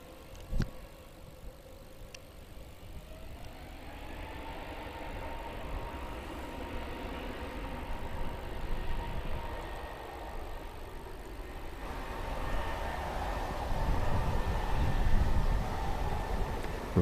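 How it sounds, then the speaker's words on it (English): Jet aircraft engines hum and whine from a distance as a plane taxis down the runway, a steady rising drone that grows louder and rougher toward the end, with no voices. "it's just about to take off, so let's let you hear the sound of those engines"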